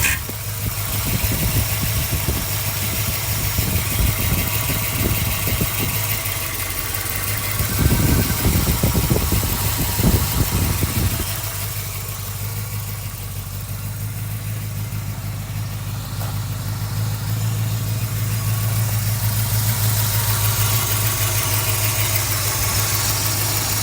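A 383 cubic inch V8 crate engine idles steadily up close, its low rumble continuous throughout, briefly rising in a rougher surge partway through before settling back to a smooth idle.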